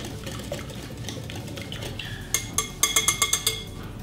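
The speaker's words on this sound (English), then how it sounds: "So we'll just whisk these together first." Wet ingredients whisked in a bowl, a soft liquid swish giving way to a quick run of sharp, rhythmic clinks of the whisk against the bowl's side, close and clear with no talking.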